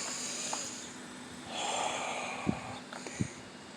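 A person takes one slow, deep breath close by, a soft airy inhale rising and fading, then a couple of brief nasal sniffs in a quiet room.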